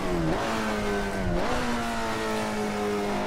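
Race car engine in Assetto Corsa, an old-school muscle car heard from outside on replay, revving loudly with rising pitch through gear changes, a steady harmonic roar alone.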